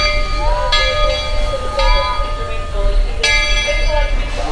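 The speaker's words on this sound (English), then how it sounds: "Right up there's the train." A train passes at Disney's Magic Kingdom with rumbling and clanking, with a horn or bell tones ringing out over a busy crowd and background chatter.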